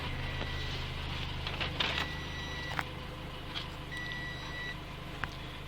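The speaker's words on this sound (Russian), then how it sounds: "вот наш иммобилайзер начал подавать предупреждающие сигналы о том, что метка у нас не прочитана" Car immobilizer giving warning beeps because its tag has not been read, steady electronic tones repeating at intervals over a constant low hum, moderately loud and close with no talking.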